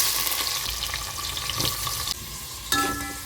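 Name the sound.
onions frying in hot oil with spices for chicken biryani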